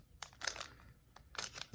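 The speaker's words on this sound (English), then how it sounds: "I can't get the pack open." Someone struggles with the foil wrapper of a trading card pack, producing short close-up bursts of crinkling and tearing in two clusters, quiet and without talk.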